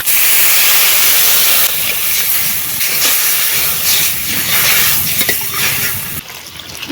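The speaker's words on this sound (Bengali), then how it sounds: "এবারে জল দিয়ে দিচ্ছি" Water poured into hot oil with spices bursts into a loud, steady hissing sizzle with bubbling and spattering that gradually settles and thins out over several seconds.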